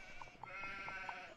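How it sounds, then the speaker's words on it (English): A sheep in the video game Nancy Drew: The Haunting of Castle Malloy gives a short run of faint, evenly spaced bleats over a soft background hum. "Oh my god, is that a happy sheep?"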